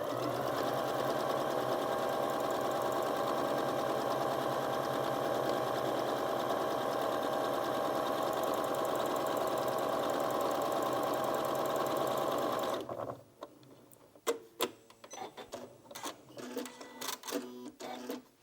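Janome Memory Craft 9480QCP sewing machine stitching at a fast, steady run for about twelve seconds, loud and close, then stopping and giving way to scattered clicks and handling noises.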